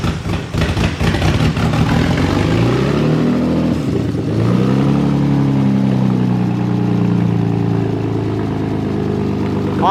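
BMW E30 engine with open headers and no exhaust cranking and firing up, rough popping start settling into a loud, rising rev and then a steady raw idle, close and unmuffled.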